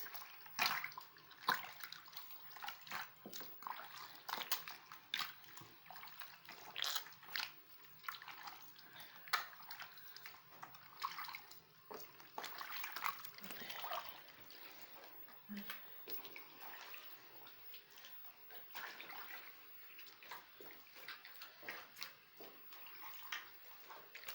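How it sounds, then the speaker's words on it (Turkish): Water splashing and trickling as homemade butter is washed in a basin of plenty of water, irregular close sloshes and drips throughout, with quiet voices talking in the background. "Şimdi bunu böyle 2-3 defa böyle yıkayacağız. Ondan sonra tekrar suyunu dökeceğiz."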